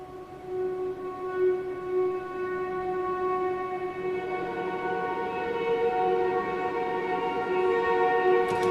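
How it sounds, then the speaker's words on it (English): An airy, circular synth pad resembling string harmonics holds a steady layered tone, sustained and smooth throughout at moderate level without any voices. "it starts out with this circular patch, which is almost similar to like string harmonics"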